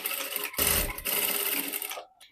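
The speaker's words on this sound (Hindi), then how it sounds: "अब इसके ऊपर शोल्डर के ऊपर मैं सिलाई लगाऊंगी यहाँ पे।" A sewing machine stitches the shoulder seam of a ruffle blouse in a short close burst, whirring through a brief pause and then slowing to a stop.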